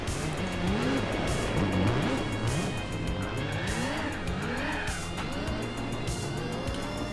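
A Nissan Skyline at full throttle in the racing video game Gran Turismo 4, its engine droning and rising through repeated gear shifts, with tire squeal in places, loud and continuous, no voices.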